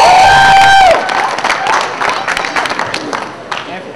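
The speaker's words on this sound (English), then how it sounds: "applause." A crowd at a collegiate poetry slam in Tallahassee breaks into applause and cheering after a loud whoop, with scattered claps and voices continuing at a moderate level.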